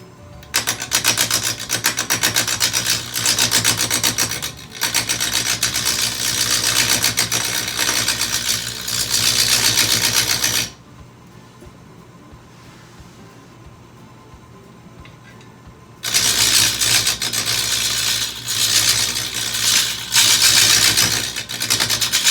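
Wood lathe spinning a workpiece at about 520 rpm, a steady mechanical whir and rattle that runs loud, drops out to near silence for several seconds, then resumes just as strongly.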